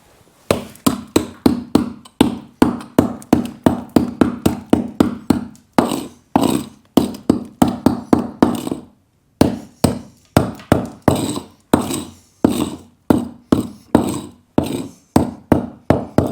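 A hammer breaks up lumps of concrete on a floor, striking again and again in a fast, steady rhythm of loud, close blows, with one brief pause partway through.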